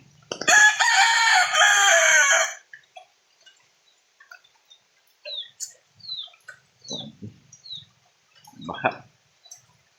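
A backyard rooster gives one loud, close crow during heavy rain. Scattered short clucks and calls from the chickens follow, with quiet gaps between them.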